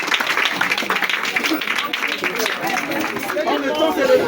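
Audience at a school ceremony in Brazzaville claps and chatters together, a busy mix of applause and crowd babble with a voice speaking over it.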